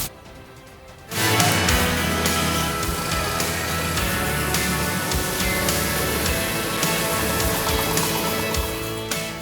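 Heavy monsoon rain pours down in Pakistan, a dense, steady roar of water that starts abruptly after a quiet second and continues unbroken at full loudness.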